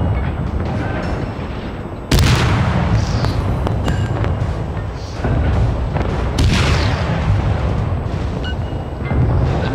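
Naval guns firing in a World of Warships sea battle: heavy booming shots land at intervals over a steady rumbling din of distant gunfire, with two especially loud blasts standing out.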